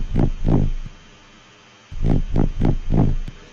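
A bass synth with its OTT compression switched off plays deep, rounded pulses in a bouncing rhythm: two hits, a short pause, then four more, loud and alone.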